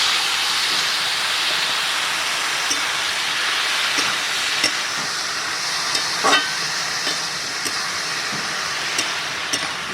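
Mixed vegetable stalks, coated and tossed into a pan of hot oil, give off a steady, loud hissing sizzle that holds evenly throughout, with a few faint pops and clicks on top.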